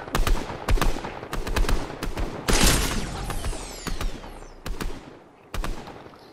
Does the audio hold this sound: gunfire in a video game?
yes